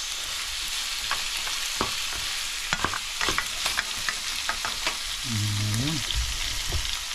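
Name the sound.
pork being sautéed in a pan until light brown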